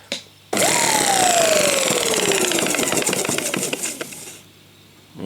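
A Sebo Professional G1 upright vacuum cleaner motor starts and runs with its belt fitted, a loud close whirring drone with a falling pitch and rattling texture, then switches off after about four seconds.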